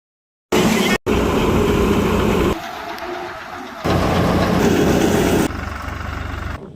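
A farm tractor engine running loud and close, its steady rumble cutting out briefly and then shifting between louder and softer chugging levels over several seconds.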